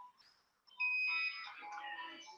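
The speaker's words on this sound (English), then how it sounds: "Mostly the beeping of the generator and the voice announcing of the shot." Electronic beeps from a portable X-ray imaging generator used for equine hoof imaging: a few short, thin tones, then a longer steady high beep, fairly faint amid quiet background clatter.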